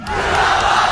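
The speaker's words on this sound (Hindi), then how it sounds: "पिंडाल से जो आवाज बुलंद हो रही है कि कौन बचाएगा पाकिस्तान, इमरान खान, इमरान खान" A large crowd at a political rally in Pakistan, supporting Imran Khan at a Lahore university gathering, roars and chants together in a dense, sustained wall of voices for a brief moment.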